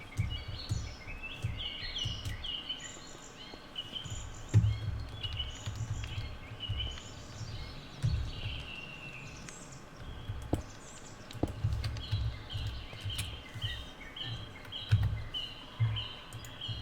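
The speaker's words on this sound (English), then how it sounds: "I love the sound effects in this mod pack. I love the birds. I love the ambiance." Birdsong ambience in a modded Minecraft world: scattered chirps and tweets over a soft continuous background hum, with occasional sharp ticks, fairly quiet and without talk.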